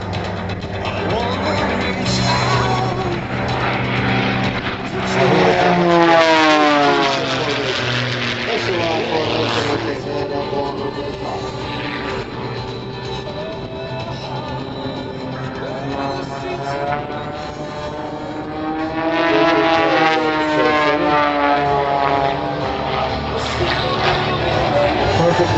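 MX-2 high-performance aerobatic propeller aircraft performing at an air show, engine and prop note swelling and sweeping in pitch as the planes pass and climb, loud and steady, with an announcer talking over it.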